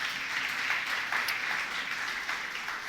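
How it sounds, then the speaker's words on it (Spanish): A church congregation on a Sunday morning claps together in a steady, dense wash of applause, moderately loud and sustained without pause. "Dale una ofrenda de aplauso al Señor en esta mañana."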